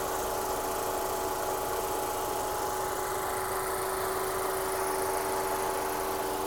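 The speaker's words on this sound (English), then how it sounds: "as you can hear, ticks over beautifully" A 2009 Audi A4 Avant petrol engine idles smoothly with an even, steady hum and a faint whine on top, quiet and continuous with no knocks.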